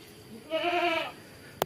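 Mother goat bleating near her young kid, a single loud wavering bleat of about half a second, close by, followed by a brief sharp click in otherwise quiet surroundings.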